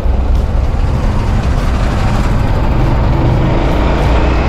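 Big trucks idling and creeping in a heavy traffic jam, a loud, close, steady diesel rumble with deep low-end drone throughout.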